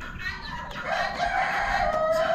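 A black rooster crows at a poultry auction among chickens and ducks, a single drawn-out call rising and holding steady, fairly close and loud against a busy background.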